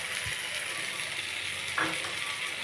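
Spices and vegetables sizzle steadily in a hot pan for a pangas fish, potato and eggplant curry, with a brief scrape of stirring partway through and no talking.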